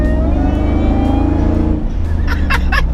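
Supercharged 430 bhp Ford SVT Lightning pickup, slightly modified with aftermarket parts, its engine droning loud and close with a deep steady harmonic rumble, then a few sharp bursts near the end.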